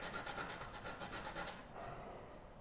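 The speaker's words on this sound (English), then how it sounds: "Just got to be careful with this 80 grit because it does, as I said, eat through the wood pretty quick" Rough back-and-forth rasping of coarse 80-grit sandpaper on wood while shaping a mountain dulcimer, a steady run of short scrubbing strokes that eases off near the end, fairly close and without talk.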